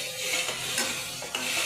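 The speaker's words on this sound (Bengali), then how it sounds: "লাল লাল করে মশলা কষিয়ে নিয়েছি, তেল ছেড়ে দিয়েছে।" Spice paste sautéing in oil for an aloo matar curry, a brief close sizzle with a couple of soft scraping stirs of a spoon through the pan, no voices.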